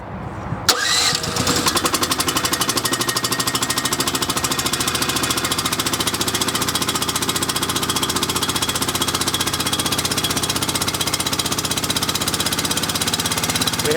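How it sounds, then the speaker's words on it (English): An engine on a Marathon MM100PT mastic mixer cranks and catches with a quick burst, then runs loud and steady with a rapid, hammering mechanical chatter, close up. "We have the engine started."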